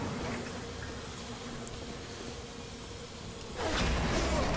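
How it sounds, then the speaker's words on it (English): A swarm of bees buzzes in the BioShock video game, a dense, steady droning hum that fills the whole moment and swells louder toward the end. "Goddamn bees."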